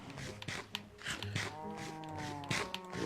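Blocky Minecraft cows moo several times in a farm pen, overlapping low drawn-out calls close by, with faint soft steps in between and no talk.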